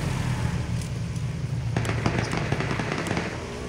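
Rapid bursts of gunfire in PUBG (Battlegrounds) during a squad match, a cluster of sharp cracks starting partway through over a steady low rumble of game background noise.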